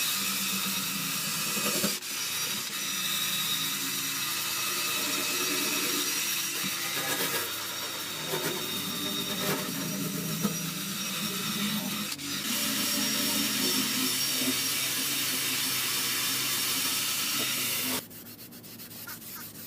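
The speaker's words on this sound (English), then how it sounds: "now I'm going to wire brush outside because I want to bed liner it" A wire brush scrubs hard and continuously across the outside of a 1978 Toyota RV's fuel tank, a loud, close, steady scraping hiss with brief pauses between passes before a quieter stretch at the end.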